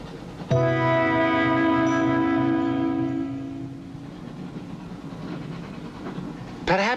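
A train running on rails, starting abruptly with a loud tonal rumble and whine that holds for several seconds, then fades into softer rolling rail noise before a brief sharp burst at the end.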